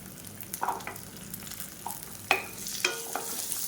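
Small shallots and about ten garlic cloves sauté in a pan, a soft steady sizzle running under several sharp scraping stirs of a spoon, fairly close and moderately loud, with no talking.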